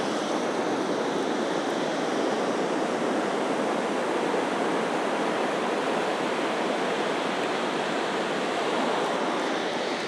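Ocean waves wash onto Kelating black sand beach in Bali, a steady broad roar of surf that holds at an even, full level throughout with no pauses, close and enveloping.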